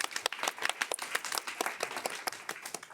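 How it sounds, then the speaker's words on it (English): An audience at an annual data forum gives a round of applause, individual claps audible as a lively, uneven patter that holds steady for a few seconds before trailing off. "So maybe a big round of applause to us all."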